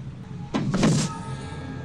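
A spaceship door from the 1979 film Alien slides and thuds once, a short mechanical whoosh over low steady hum.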